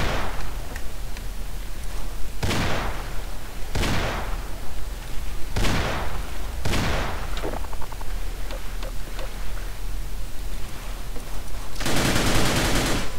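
Gunfire from a weapon in the video game They Hunger: several sharp, loud bursts spaced a few seconds apart over steady game ambience, with a dense noisy burst near the end.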